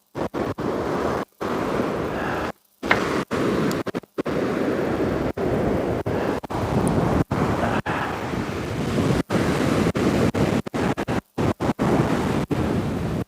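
Ocean surf rolls onto a shallow beach with a continuous loud roar of breaking waves and heavy wind buffeting the microphone, broken by several brief dropouts.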